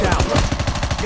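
Enemy automatic gunfire in Call of Duty Mobile, a loud, fast, continuous rattle of shots filling the moment, close and dense, with a voice faintly mixed in.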